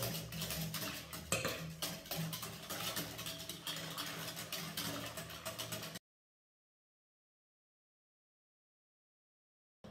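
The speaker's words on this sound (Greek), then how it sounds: "θα παίρνουμε κουταλιά τώρα από τα στερεά και θα το ρίχνω μέσα και θα ανακατεύω" A spoon stirs chocolate cake batter in a pot, producing close, repeated clinks and scrapes of metal against the pot for about six seconds before the sound cuts to silence.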